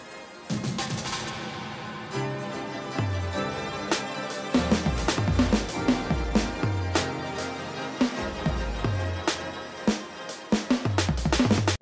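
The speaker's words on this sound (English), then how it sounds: "adding an arpeggiator with the setting that allows it to just switch to random samples and not repeat" Choppy electronic drum hits from random drum samples through an arpeggiator jump between samples in a rapid, irregular pattern, punchy and loud with no repeating sequence.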